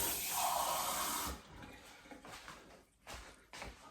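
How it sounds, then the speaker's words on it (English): Cold water runs from a kitchen tap while a cup is filled for a flour batter, a steady close rushing flow that cuts off after about a second and a half, followed by quieter splashes and trickles. "We need half a cup of water, cold water."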